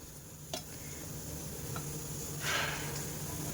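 Ginger, garlic cloves and curry leaves frying with onions for a desi chana curry, a low steady sizzle and hiss with a few faint stirring clicks and a brief swell of crackle, heard alone.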